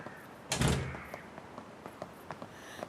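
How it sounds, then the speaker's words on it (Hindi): A door bangs shut in a home, one loud thump with a brief rumble that fades, followed by a few small clicks and taps. No talking over it. "दरवाजा बंद करो।"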